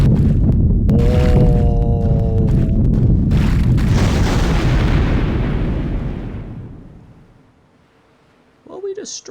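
Heavy explosions from bombs hitting a dock and warehouses in a WWII bomber flight video game, a loud sustained rumbling blast with tonal engine drone that slowly fades to near silence, followed by a brief voice at the end.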